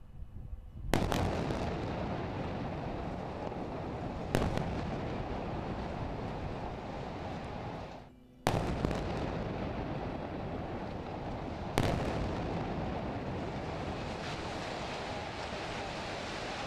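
Rockets and explosions during the Gaza war roar as a sustained, dense rushing blast that keeps going, broken by several sudden sharp onsets and one brief drop, loud and continuous throughout.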